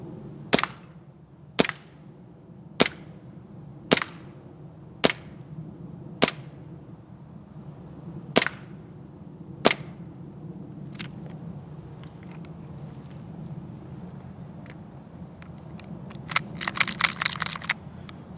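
A WE TRP airsoft M1911 pistol fires about nine sharp, crisp shots at uneven intervals, close and clear over a quiet background, followed by a quick flurry of faint mechanical clicks.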